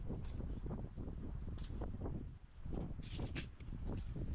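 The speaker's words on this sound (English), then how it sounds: "It is windy as." Strong wind blows at Bundegi beach, buffeting the microphone in continuous rumbling gusts with brief higher flutters and no one speaking.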